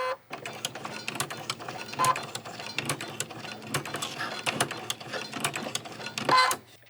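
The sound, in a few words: sewing machine stitching ruffled fabric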